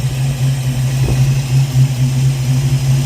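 Close, loud idle of a Ford Mustang engine fitted with a QFT Slayer 750 carburetor, a steady low throb with a faint uneven lope and one brief knock near the middle.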